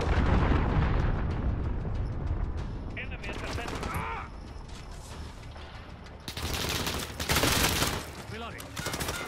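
Explosions and heavy gunfire from a Call of Duty: Modern Warfare multiplayer match, including a cruise missile strike: dense, loud, continuous blasts and shots with a big burst of impacts late on, while a voice talks over the action.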